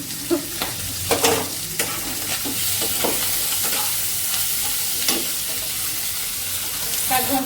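Greens sizzle steadily in a hot pan as a spatula stirs them, scraping in repeated strokes over a constant frying hiss.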